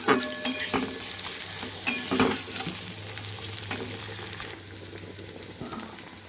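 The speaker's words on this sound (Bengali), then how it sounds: "বেরেস্তাটা করে নেব। এর জন্য দিয়ে দিয়েছি কড়াইয়ে।" Sliced onions sizzling and frying in a wok for birista, a steady close crackle with repeated scraping stirs and clanks of a spatula against the metal pan.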